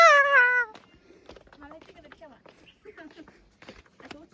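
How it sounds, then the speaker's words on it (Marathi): A cat at a temple lets out one short, loud, tonal cry, followed by people talking over faint background noise. "कसं गुरगारतोय तो"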